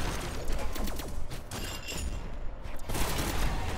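Pistol fire in the fighting game Brawlhalla during a 2v2 match, heard as dense, rapid game-effect bursts and mechanical clicks filling the whole stretch at a steady loudness.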